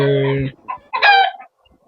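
Free-range kienyeji chickens on a poultry farm give a loud, close crow followed by a few short clucks and squawks, then fall quiet.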